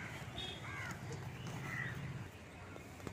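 A crow caws a few times at a mulberry tree, moderately distant and faint against steady outdoor background noise.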